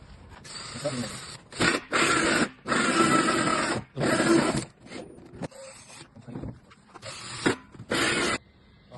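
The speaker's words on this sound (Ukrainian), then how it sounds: "корончастого сверла діаметром 2 дюйма просверлити отвори в цьому і в цьому місці" A 2-inch hole saw drills through a rotomolded plastic modular water tank in short grinding bursts, close and rough, broken by brief pauses and quick restarts.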